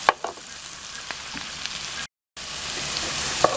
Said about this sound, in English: you're going to want to saute this until it starts to caramelize